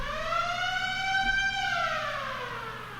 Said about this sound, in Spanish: Y como tal, y lo plantea la sirena,